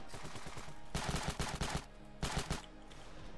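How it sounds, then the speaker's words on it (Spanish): Rapid automatic fire from the video game Ravenfield in a desert battle, loud clustered bursts of shots arriving in two main volleys with a lull between, over a steady background of combat noise. "Hay un montón de tiros ahí."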